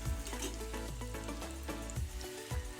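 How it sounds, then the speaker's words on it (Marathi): Ginger and garlic frying lightly in oil for chicken chilli, a steady soft sizzle with faint stirring scrapes running throughout, no talking. "ते अद्रक लसूण हे असं चांगलं असं एवढं मीडियम फ्राय करून घ्यायचं"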